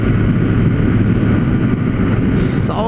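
A DK 160 motorcycle engine accelerating toward top speed, a loud steady drone that stays close and continuous throughout, with wind rush and a brief higher whine near the end.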